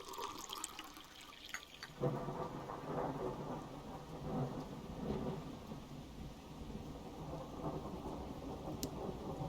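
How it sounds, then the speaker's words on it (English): Rain and thunder in the fishing video game Russian Fishing 4: a rumble swells in after a quiet start, then steady rainfall with rolling thunder continues at moderate level, without talk. "We are definitely getting the rain here now,"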